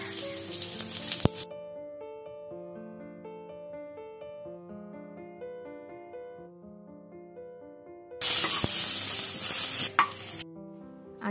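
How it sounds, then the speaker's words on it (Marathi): Mustard seeds, cumin, curry leaves and asafoetida sizzle in hot oil for a tempering. The loud crackling comes in two bursts, one at the start and one near the end, with soft melodic music in between. "आता फोडणी आपली छान तडतडलेली आहे."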